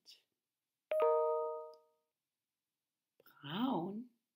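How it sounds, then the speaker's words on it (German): A single struck gong rings out clearly: a sharp metallic onset, then a sustained, fading tone with layered overtones lasting about a second. A person speaks briefly afterward. "Was war denn das für ein Gong?"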